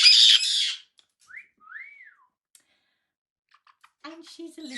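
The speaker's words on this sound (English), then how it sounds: "there's 3 other birds in the background screaming for attention" A raspy parrot scream bursts out at the start, followed by two short whistled calls from the birds in the background, then a voice begins talking at the end.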